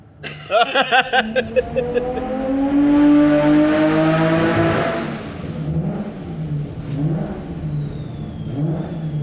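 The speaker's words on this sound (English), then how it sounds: "I have a feeling that noise is boost cuts or something just to keep it safe" A Nissan R32 GTR engine on a dyno revs hard and stutters against boost cut in rapid choppy bursts, then a sustained loud climbing rev that fades to a lower drone, close and without speech.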